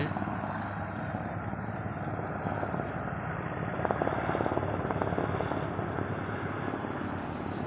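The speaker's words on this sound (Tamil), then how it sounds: "ஹெலிகாப்டர் போகின்றது." A helicopter descending toward a helipad in Kargil, India, gives a steady rotor drone and engine rumble, holding at a fairly constant level throughout as the aircraft passes nearby.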